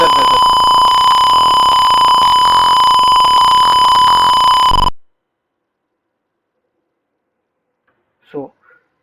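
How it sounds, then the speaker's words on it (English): An electronic buzzer on a carrom-playing robot project gives a loud, steady high-pitched tone for about five seconds, then cuts off into silence, broken near the end by a brief faint sound. "when I give S as character, the buzzer buzzes"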